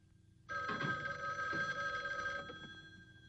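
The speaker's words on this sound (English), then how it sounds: "Rochester, answer the phone, please" A telephone bell rings in a household setting on a vintage television comedy, one sustained metallic jangle starting suddenly and fading slightly, moderately quiet.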